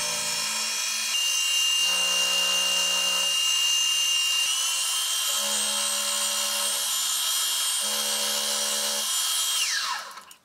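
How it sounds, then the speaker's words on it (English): A milling machine cuts a 25 mm flat across the top of a steel ring. A steady high motor whine runs throughout, with repeated lower grinding passes as the cutter bites. The sound is close and constant, then winds down at the end. "I'll take it to the mill and I'll cut in a 25mm flat across the top."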